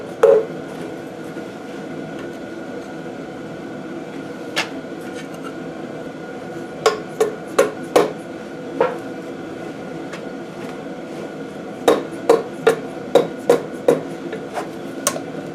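Flathead screwdriver prying a timing cover off a Case 188D engine, producing sharp metallic knocks and clanks in irregular bursts, some in quick clusters, over a steady low background.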